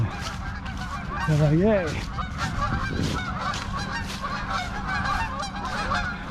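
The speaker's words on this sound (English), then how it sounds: "Hello, Canadian geese." Canada geese honk repeatedly near a hiking trail in a rural valley, a flock calling in overlapping bursts while a person speaks briefly over them.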